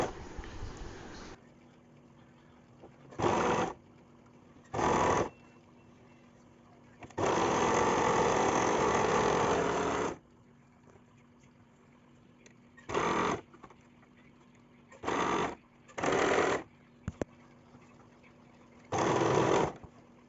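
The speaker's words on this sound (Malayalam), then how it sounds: "നമ്മളൊരു ചുരിദാർ അടിക്കാട്ടോ." A sewing machine stitches a churidar at close range in a run of separate bursts: several short spurts of whirring and one longer sustained run near the middle, with quiet gaps between them and no talking.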